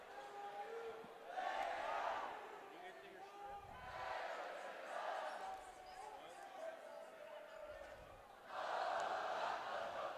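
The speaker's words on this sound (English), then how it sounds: "You can already see this crowd is on their feet and chanting incredibly." A sold-out, standing crowd at a high school boys' basketball game chants in three rhythmic surges, fairly distant and muffled, with quieter murmuring between the bursts.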